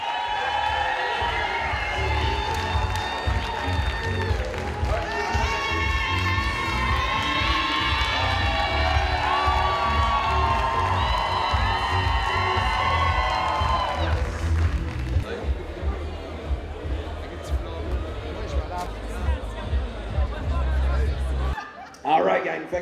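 A packed crowd at the Festival d'humour d'Alma comedy festival cheers, shouts and claps loudly to welcome festival director Nick Lavoie on stage, a sustained roar with children's shrieks and an MC's voice over it before the noise drops away.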